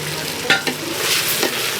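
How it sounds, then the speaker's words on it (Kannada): Brinjal frying with masala in a pan over a village wood-fire oven, a steady close sizzle with a few sharp stirring scrapes and clinks of a spatula against the pan. "ನೋಡಿ ಬದನೆಕಾಯಿ ಫ್ರೈ ಆಗಿದೆ"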